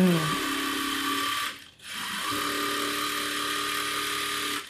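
Sewing machine running steadily while a churidar dress is stitched, a continuous close mechanical whir that pauses briefly midway, then resumes at a steady pace.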